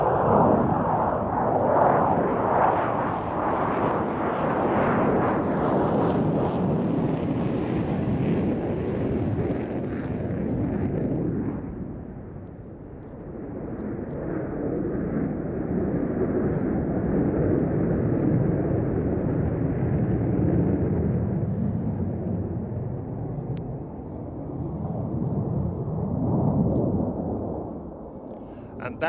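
Jet engines of a nuclear bomber at full thrust in a spiral climb over an airshow, a loud continuous roar that swells, dips and builds again, with wind buffeting and a commentator talking.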